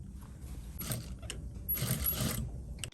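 A sewing machine stitches the fly pieces of dress pants together during a zipper replacement, giving two short bursts of rattling mechanical whirring with quieter pauses between them, heard up close.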